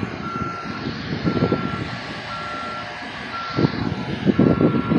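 Construction truck working curbside with a steady high reversing beep repeating over a low diesel engine rumble, with bursts of heavier engine noise toward the end.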